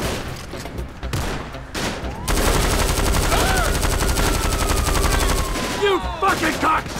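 Rapid automatic gunfire in GTA V story mode, loud and sustained bursts with a large explosion, chaotic combat noise running under shouting.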